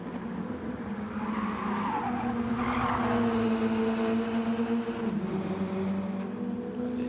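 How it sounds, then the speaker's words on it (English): Race cars in a racing video game league race, tyres squealing through a fast left-hand corner, a loud sustained squeal riding over a steady engine drone with no pauses. "The tyres on the edge of adhesion there."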